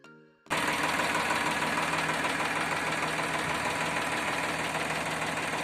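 After a brief quiet moment, an old tractor engine in full running condition, with no smoke or oil leaks, starts running nearby, a steady loud idle with knocking chugging that holds constant to the end.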